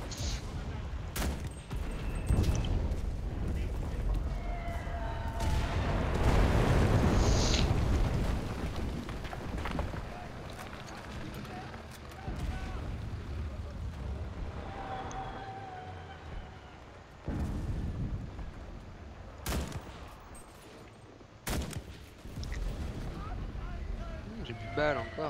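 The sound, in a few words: HE grenade and artillery explosions in video game Enlisted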